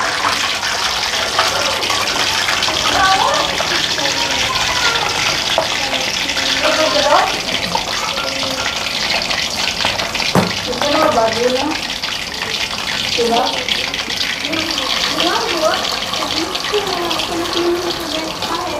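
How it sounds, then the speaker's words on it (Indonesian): Snacks frying in a pan of hot oil, a continuous dense sizzle and crackle heard close up, with people talking quietly over it. "Sekarang tinggal proses goreng nih"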